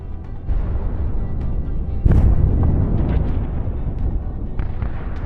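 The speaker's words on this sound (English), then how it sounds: "At some point, one of the shells hits the tank." Artillery shells burst around a Russian tank under Ukrainian shelling on a battlefield: a continuous rumbling roar with one heavy, sharp blast near the middle and scattered crackles after it.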